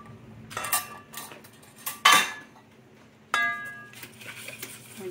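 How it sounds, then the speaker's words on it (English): Utensil clinks against a dish in short bursts while an egg is beaten in a bowl for stuffed grouper, with quiet gaps between a few sharp clatters. "Beat your egg up."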